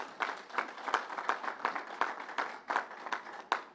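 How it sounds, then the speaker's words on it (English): Scattered clapping from a small crowd at a COVID-19 vaccination event, with distinct individual claps in a loose, uneven rhythm, moderately loud and close, without a dense roar. "Let's give Northwell a round of applause."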